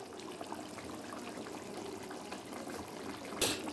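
Fish curry simmers in a pot with soft, steady bubbling and faint popping at low level, ending in a short sharp clatter.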